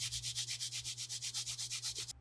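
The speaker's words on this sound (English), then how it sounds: "So now for the sanding pad." A sanding pad rubs back and forth on acrylic in quick, even strokes, about seven per second, making a close, loud rasping pulse over a steady low hum. It stops abruptly at the end.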